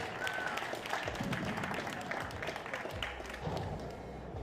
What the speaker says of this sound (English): Congratulations to Anni, everybody. A big round of applause for her.